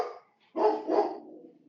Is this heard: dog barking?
yes